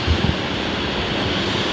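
A Qantas jet airliner rolls down the runway for takeoff at Brisbane Airport, a brief, steady engine roar at moderate distance with a couple of low thumps at the start.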